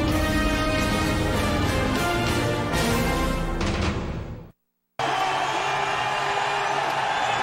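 A football stadium crowd in Philadelphia cheering as Donovan McNabb is introduced before the Eagles host the St. Louis Rams in the 2008 season opener, a loud, dense, continuous roar that cuts out briefly and then resumes.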